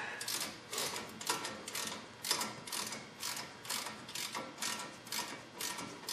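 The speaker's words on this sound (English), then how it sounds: "Threading it halfway easily." Threaded part on a Ford Explorer front wheel bearing job being turned in, a quiet repeated ratcheting click in short regular bursts, close up with no voices.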